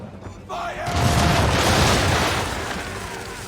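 A ship's cannon broadside firing round shot booms in the Assassin's Creed 3 video game, a heavy sustained rumbling blast that swells and slowly fades.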